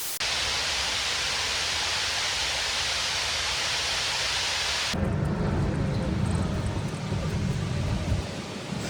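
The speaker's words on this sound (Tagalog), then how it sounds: "Ayan, waterfall siya." An artificial waterfall at Dubai Miracle Garden, a landscaped outdoor flower park, makes a steady, loud rush of falling water. Partway through, the sound turns deeper and heavier, as if heard from a closer spot.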